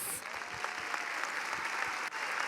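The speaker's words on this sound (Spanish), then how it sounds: "Más fuerte el aplauso para la doctora Esther Tapia Álvarez" Seminar audience of teachers claps for a speaker, a thin, fairly distant patter of scattered hands with a few sharper individual claps standing out, quiet and continuous.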